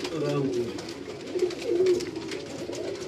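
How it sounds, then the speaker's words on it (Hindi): A pet pigeon on a Karachi rooftop coos in low, rolling phrases, fairly close, with someone talking over much of it. "तो ये इनका एक कबूतर है, ये चेक कीजिएगा"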